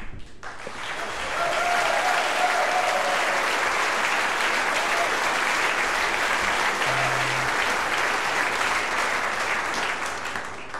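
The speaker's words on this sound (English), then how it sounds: "I will give this uh, extraordinary, fantastic band a hand." Sustained, loud applause from a large audience at a JazzBaltica 2010 jazz concert swells quickly and holds steady for several seconds.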